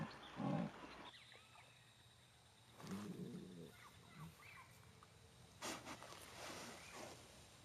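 Female jaguar calling for a male in the Brazilian Pantanal: a few deep, grunting roar bursts spaced apart, moderately near, with faint ambient wildlife around them.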